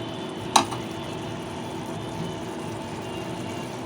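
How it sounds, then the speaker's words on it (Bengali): Dried fish and spices fry in a covered pan, giving a soft, steady sizzle throughout. A single brief click sounds near the start. "এই সব কিছু দিয়ে এখন আমি ঢাকনা দিয়ে ঢেকে শুটকি এবং মশলাটাকে ভালো মতো কষে নেব।"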